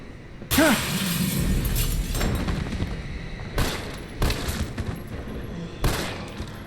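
Gunfire in the video game Resident Evil 3: a few loud, sharp bursts spaced a second or more apart, over a dense, rumbling game soundscape.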